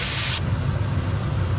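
Tomatoes hitting hot oil in a wok while noodles in lye water are being cooked, giving a loud, bright sizzling hiss at first that quickly drops into a softer, steady frying crackle.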